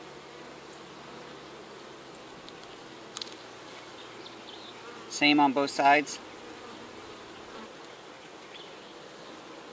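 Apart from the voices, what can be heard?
honey bees buzzing around an opened hive frame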